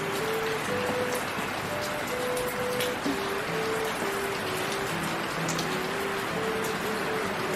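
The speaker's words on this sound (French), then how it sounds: "Ça pleut bien. On y fait des petites rivières." Heavy rain pours down steadily, a dense continuous hiss of drops with no voices.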